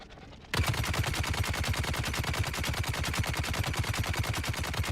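An energy-based weapon in a video game fires a rapid, steady burst of shots that runs for about four and a half seconds, loud and close, after a brief quiet lead-in.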